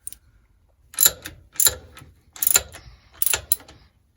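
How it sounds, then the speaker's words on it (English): A ratchet bolts down an overdrive spacer on a Jeep CJ5 with Spicer 18 transfer case and T90 transmission, fitted with new hardware and washers; four short bursts of close, crisp clicking are separated by brief pauses. "let's get that bolted down"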